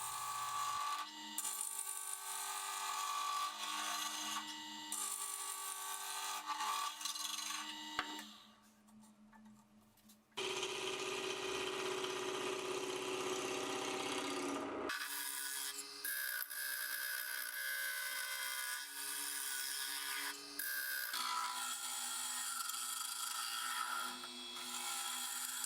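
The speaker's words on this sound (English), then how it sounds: "I started turning. I did all the roughing with my bowl gouge." Wood turning on a lathe with a bowl gouge while making a wooden zoetrope toy: steady scraping and cutting noise in several sections, varying in tone where the cut changes, fairly loud and with no talking.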